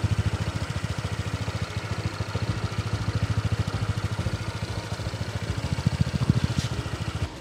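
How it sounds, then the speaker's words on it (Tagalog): A new Honda Click 160 scooter idles close by, its exhaust putting out a steady, rapid low putter that stays even and unrevved throughout. "Yung tunog ng tambucho niya, parang parehas lang din ng sa PCX."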